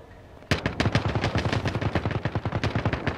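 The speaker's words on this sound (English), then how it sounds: "They're shooting at other people." Rapid automatic gunfire in Call of Duty Warzone rattles off in dense, loud bursts after a brief quiet start, continuing steadily for several seconds with no talk over it.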